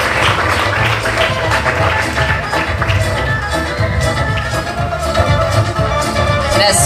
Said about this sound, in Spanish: quiero que todos le brindemos un fuerte aplauso a los papitos de Edicito